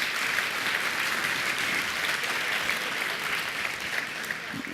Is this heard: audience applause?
yes